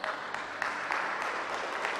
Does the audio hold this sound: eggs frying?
no